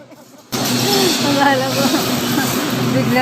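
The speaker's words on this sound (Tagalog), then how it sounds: "Akala ko ito bigla nag-break. Ang lakas. Bago kasi yung train." A new commuter train braking near Fernando Po Jr. Station, letting out a loud, steady hiss that starts abruptly and holds at full strength with a low rumble beneath it.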